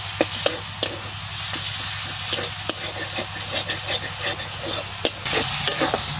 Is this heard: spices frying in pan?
yes